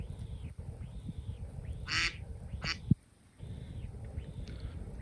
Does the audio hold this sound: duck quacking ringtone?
yes